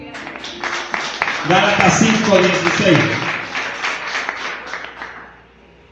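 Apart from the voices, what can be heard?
church congregation applauding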